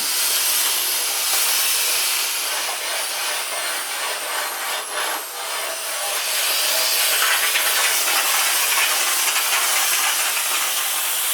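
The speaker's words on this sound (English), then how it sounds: "Turn the steam on, get some steam cleaning." Black and Decker FSMH13E5 steam mop releasing a loud, steady, broadband hiss of steam outdoors while cleaning a barbecue, continuous and close with slight surges.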